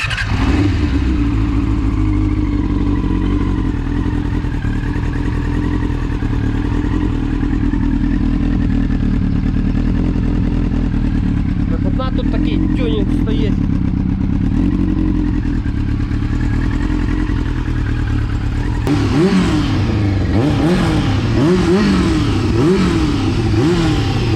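Yamaha R6 sport motorcycle engine idling steadily up close after carburetor synchronization, a smooth mechanical hum with a few brief throttle blips late on.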